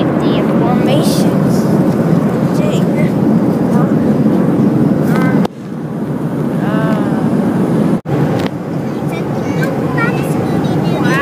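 Steady loud airliner cabin drone just after takeoff, a broad continuous rumble and hiss with two brief dropouts, with faint voices beneath the roar.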